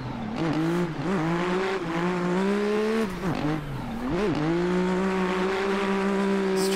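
An A90 Supra race car in a racing video game roars continuously at full throttle around Pine View Circuit, engine pitch dipping and climbing through shifts, loud and steady throughout.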